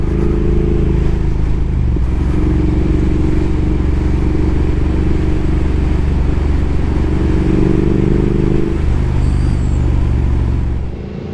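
A Triumph Speed Twin 1200 motorcycle engine roars steadily nearby, revving up hard in first gear to about 80 km/h and holding a loud, droning pitch as it accelerates, with no talking.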